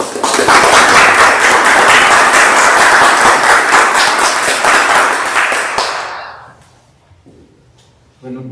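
Audience applause after a talk on spirituality and science by a nun: dense sustained clapping from a full room for about six seconds, then tapering off into quiet, with a faint voice starting near the end.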